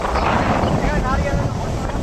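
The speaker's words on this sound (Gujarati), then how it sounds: "આપણો પવન નો અવાજ છે ને કાઢી નાખશું" Wind rushes and buffets against the microphone, broadband and steady, with waves or water faintly beneath and a voice speaking over it.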